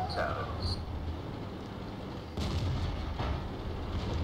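A T54E1 tank's cannon fires in World of Tanks, a heavy boom near the start and another around the middle, each over a constant rumbling engine and battle bed.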